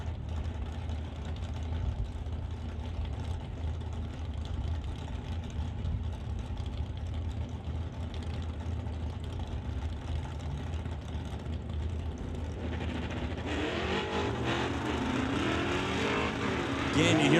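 Ford Mustang drag car idling at the line with its driver feathering the throttle, a steady low engine drone that rises and roughens near the end, heard under a race announcer's voice.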